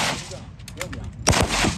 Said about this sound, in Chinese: 现在开始实施实弹射击